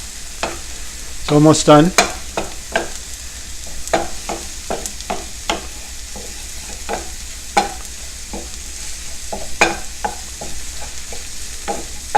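Scrambled eggs being stirred in a frying pan, with a soft sizzle under repeated scraping and spatula strokes, a louder flurry near the start, and a brief spoken remark.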